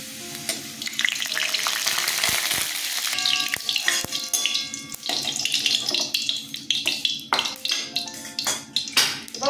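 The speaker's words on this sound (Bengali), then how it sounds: "রসুনগুলো ছেড়ে দিচ্ছি। রসুন ভাজার খুব সুন্দর গন্ধ বেরোচ্ছে।" Garlic sizzles in hot oil in a pan, a loud bright crackling hiss broken by repeated scraping stirs and clinks of a spatula, close up, with no talking.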